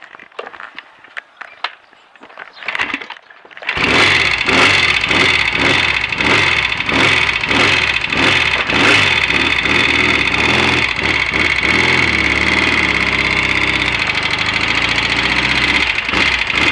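A Royal Enfield Interceptor 750 Series II motorcycle on a ride through a village lane and along a Roman road. The engine is quiet at first, then becomes a loud, steady, close run that continues to the end.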